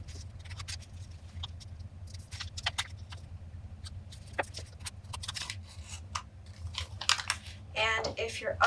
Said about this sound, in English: I'm going to fold each of these in half again